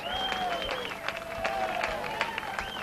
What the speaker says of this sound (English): But Colin's still clapping for both of them